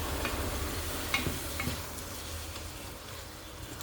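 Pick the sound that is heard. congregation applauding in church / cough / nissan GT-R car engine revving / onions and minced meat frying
onions and minced meat frying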